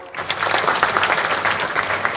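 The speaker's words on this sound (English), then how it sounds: "Could we again give them a round of applause?" A crowd at an investment conference in Kisumu breaks into loud, sustained applause, with the clapping filling the hall evenly from start to finish and no speech over it.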